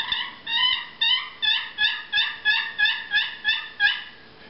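An aluminum turkey trough call imitates a hen with a steady series of about ten raspy yelps, evenly spaced and close, with no talking.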